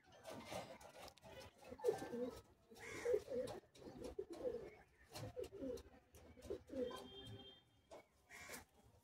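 Madras pigeons at a breeder's loft cooing repeatedly in soft, low, rhythmic calls close by, with occasional faint chatter and handling noises around them.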